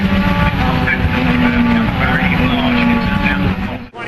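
Race cars roaring at speed on a circuit during a big multi-car wreck, engines and tire noise loud and continuous under an excited commentator's voice, with a sudden cut near the end.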